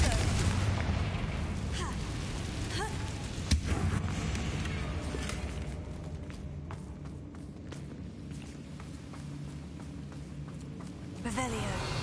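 Confringo blasting spell explosions in the Hogwarts Legacy video game, a few booming bursts, one sharp hit standing out over a constant loud rumbling game soundtrack.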